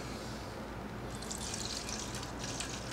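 Rubbing alcohol pours into other liquid: a soft background hush, then a close, bright trickling and splashing pour that keeps going to the end.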